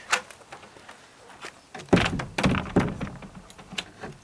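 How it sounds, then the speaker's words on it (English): An exterior door with a rubbing fault being pushed shut, heard as several dull thumps and clunks of the door and its latch in close succession, fairly quiet, with light handling noises around them. "let's close this door and see what that's done"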